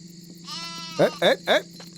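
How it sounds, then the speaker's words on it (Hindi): A goat bleats in a forest, a drawn-out cry followed by three short, close, wavering bleats in quick succession, over a faint background hum. "बकरियां बिछड़ के यहाँ चली आई होंगी।"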